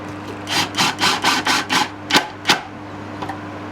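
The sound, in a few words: mallet tapping wood pieces into place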